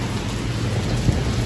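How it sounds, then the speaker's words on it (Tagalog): Heavy rain pours down at night by a market in Thailand, a dense steady hiss with a low rumble of thunder underneath and one brief thump partway through. "heavy rain star. Heavy rain talaga."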